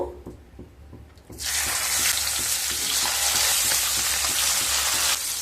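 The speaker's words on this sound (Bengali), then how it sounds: "তেল গরম হয়ে গেলে মাছগুলো ভেজে নেব।" Parshe fish hit hot mustard oil in a pan after a quiet moment, bursting into a loud, dense, sustained sizzle that holds steady close by to the end.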